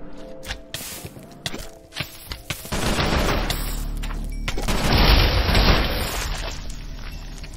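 Guns fire in a modded Minecraft game, first as a series of sharp separate shots and then as a long, loud, sustained barrage of booming blasts and rapid fire.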